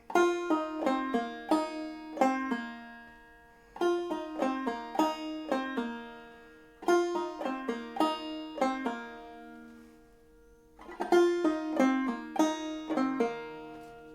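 A banjo played clawhammer style is picked in a quick bouncing rhythm, bright plucked notes in repeated phrases with short pauses between, played alone and fairly softly.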